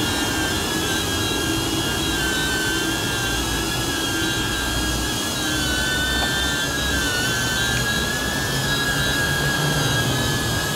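A DJI Neo drone with an enlarged battery hovers nearby, its propellers producing a steady, loud, unbroken whine and buzz with sustained tonal pitches throughout.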